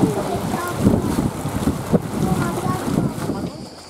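A sailboat beats close-hauled under sail off southern Corsica, with gusty wind buffeting the microphone, water sloshing against the hull and a low rumbling wash throughout.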